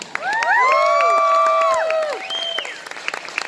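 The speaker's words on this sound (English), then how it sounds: "So big round of applause for Fire Emblem, our group award" A loud crowd cheers and applauds for a cosplay competition group award honoring a Fire Emblem team, with high whoops and shouts on top of dense clapping that swells then tapers into scattered claps.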